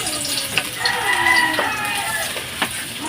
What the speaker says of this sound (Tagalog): Gisa po natin yung bawang.